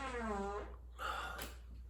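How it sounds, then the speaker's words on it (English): A short, low, rumbling fart with a falling buzzy pitch, followed by brief quiet rustle. "But I have to fart."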